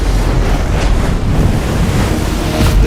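Huge ocean waves around 50 to 55 feet breaking at Jaws, a big-wave surf break, as a continuous roaring wash of surf heavily buffeted by wind noise on the microphone, with no voices.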